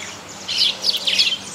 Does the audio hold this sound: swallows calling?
yes